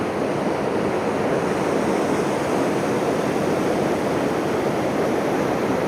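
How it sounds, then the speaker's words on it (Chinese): A mountain waterfall near Interlaken, Switzerland, gives a loud, constant rushing roar that holds steady throughout with no voices over it. "看看这里的瀑布"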